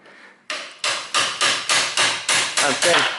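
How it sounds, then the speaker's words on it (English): Nine sharp hammer blows on the metal part of a Toyota Corolla drive axle ring out in a steady rhythm, each a loud metallic strike with a brief ringing decay, close up and alone. "then I hammer that in that way when it's there in this position, and only hammer this metallic part"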